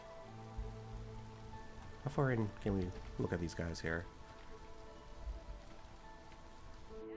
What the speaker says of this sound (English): Also the sound of the rain coming down.